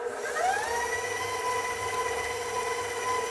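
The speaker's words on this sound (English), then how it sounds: "All right, into the mixer," Stand mixer whirring steadily at medium speed while beating pumpkin bar batter, a smooth continuous motor hum with a rising tone that settles early, moderately loud and alone.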